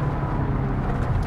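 A car driven hard on a closed course: a loud, steady low engine roar fills the short moment without a break.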